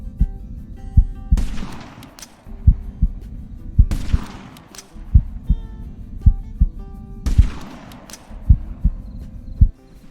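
A .338 rifle fires in Hunting Simulator 2, with three loud shots, each followed by a long ringing decay. Steady low thumping beats run throughout.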